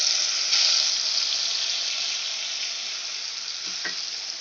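A spice paste of ground Kashmiri chilli and other spices mixed with water hits hot oil for a fish-head muri ghonto, giving a loud, steady sizzle that slowly eases, with a couple of soft stirring clinks near the end.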